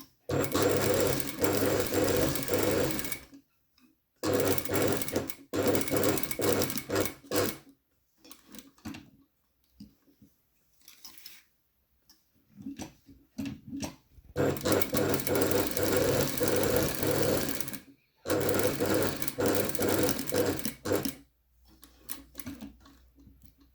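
A sewing machine stitches the corner of a patch pocket in bursts of fast mechanical whirring, with pauses and soft handling clicks between runs, close and fairly loud.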